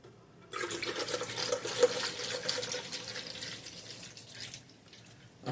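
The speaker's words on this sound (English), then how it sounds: "Okay, so fill it with water." Bottled water poured to fill the reservoir of a home bar appliance, a steady close splashing, trickling stream that begins abruptly and runs on, thinning toward the end.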